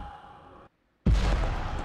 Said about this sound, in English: If the horse hits it, that doesn't mean the entire carriage blows up!